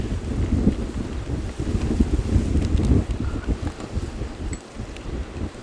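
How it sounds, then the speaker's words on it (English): Strong wind buffets the microphone outdoors with loud, uneven low rumbling gusts that ease off slightly toward the end. "It's too windy."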